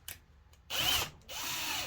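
A small power drill spins a billet distributor chucked in it, whirring in two short bursts, a quiet tick before the first, the motor spinning up to a steady high-pitched whine each time.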